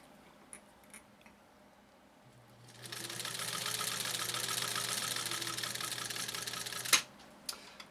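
A Japanese clone sewing machine with a 1.0 amp motor starts up and runs steadily for several seconds with a whirring motor hum and rapid needle clatter, then stops with a sharp clunk; near and alone.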